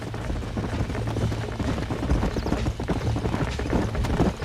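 Horses galloping in Red Dead Redemption, a dense continuous drumming of hooves close and loud, with a low rumbling bed beneath.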